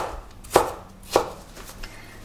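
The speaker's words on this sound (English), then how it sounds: "So I have this green apple right here. I think I'm gonna cut it" Two sharp knife chops through a green apple on a cutting board, roughly half a second apart, followed by a fainter third cut, close and alone with no talking.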